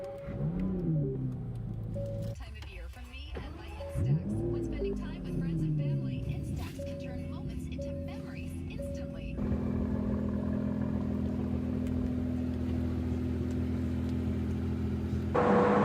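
An Aston Martin DB11 in Sport Plus mode sends up rising and falling exhaust notes in repeated revs, then settles into a steady, louder engine drone, with a person talking over much of it.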